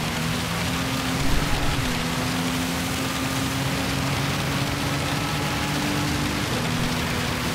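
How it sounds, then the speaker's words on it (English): Steady rain hiss in Gran Turismo 7 at Spa, with a GT-R Nismo LM race car's engine droning underneath, loud and continuous throughout. "That rain is so loud."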